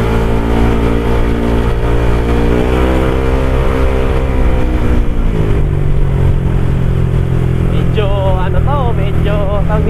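A motorcycle engine runs close and loud, revving up and settling back in rising and falling steps, with a voice talking over it toward the end.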